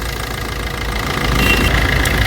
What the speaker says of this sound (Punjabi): ਮਹਿਸੂਸ ਕਰਿਓ ਇੰਜਨ ਦੀ ਸਾਊਂਡ ਹੈ ਜਿਹੜੀ ਉਹ ਵੀ ਘਟ ਗਈ